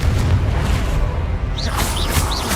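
A Confringo fire spell detonates in Hogwarts Legacy as a deep, sustained rumbling explosion that fills the whole clip. A few faint whooshing magical streaks cross over the top near the end.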